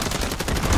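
Dense, rapid in-game gunfire from a fire shotgun in a video game, a loud continuous barrage of blasts with no talking over it.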